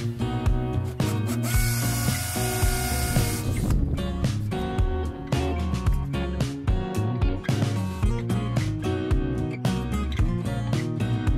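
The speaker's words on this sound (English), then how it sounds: "It's a wireless hammer drill, and I've set the function to hammer, so very useful and handy battery operated Ryobi." A battery-powered Ryobi cordless hammer drill, set to hammer mode, runs in bursts with a rapid rattling whine while a misting system is installed outdoors. It is close and loud, with no talk.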